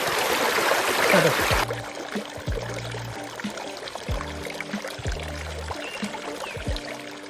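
A river flows past a village near Bhutan. Broad rushing water is loud for the first second and a half, then drops beneath steady tonal background music for the rest of the clip.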